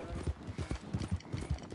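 Rhythmic clip-clop of a video game horse-like animal's hooves trotting at a steady pace, moderately loud, with faint background noise.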